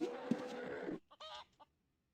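Chicken clucking in the video game Ultima Online: a dense burst of clucks and scratchy noise for about a second, then a few short, clear clucks, ending in silence.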